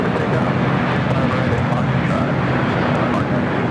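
Airliner jet engines at LAX, including an All Nippon Airways Boeing 787-9 Dreamliner, give a constant loud broadband roar that fills the whole stretch. A voice talks over the engine noise.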